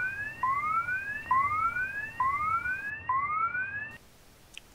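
A repeating cab alarm in the OpenBVE train simulator's Jubilee Line 1996TS train sounds as rising two-tone electronic sweeps, about five cycles spaced evenly, loud and clear, then cuts off abruptly near the end.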